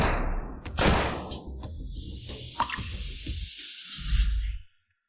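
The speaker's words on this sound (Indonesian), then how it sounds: "3 tembakan tepat sasaran." A few sharp gunshots crack amid whooshes and dull thuds, then the sound cuts to silence.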